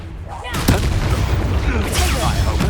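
The Incendio fire spell cast in Hogwarts Legacy bursts out suddenly as a loud, whooshing blast with roaring crackle that sustains through the rest of the moment, mixed with character voices and combat noise.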